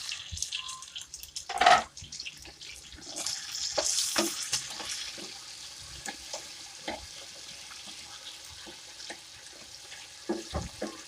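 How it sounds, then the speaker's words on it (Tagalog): Salted black beans drop into a frying pan with tofu and pork and get stirred, producing a sudden clatter followed by soft sizzling, spatula scrapes and light drips, fairly quiet and close. "Ilalagay na natin ngayon yung black beans natin."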